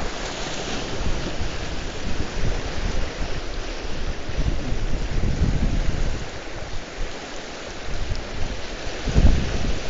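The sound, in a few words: rain shower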